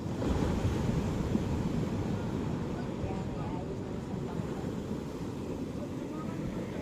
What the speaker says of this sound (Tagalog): yung mga alon na pumapasok doon, umaagos dito